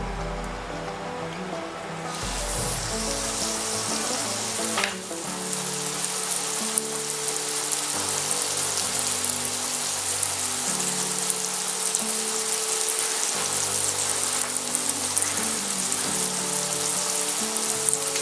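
A faux filet steak sears in a hot pan with a loud, dense sizzle that crackles steadily and evenly throughout, with a brief clatter early on and no one speaking.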